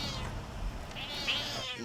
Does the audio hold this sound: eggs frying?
no